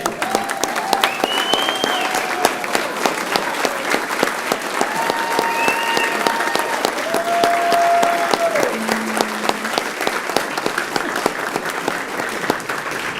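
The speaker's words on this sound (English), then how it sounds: "let's give one final round of applause for class 2503" Audience applause at a Brevard County Fire Rescue graduation ceremony, a steady, dense round of clapping from a large crowd lasting throughout, with a few faint tonal sounds above it.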